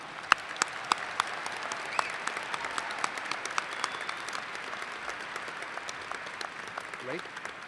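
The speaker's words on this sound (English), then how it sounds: "Let's give them one more round of applause." Audience applause at a December 2016 Murray State University commencement ceremony, a dense steady clapping from a large crowd with sharp individual claps standing out, continuing evenly throughout.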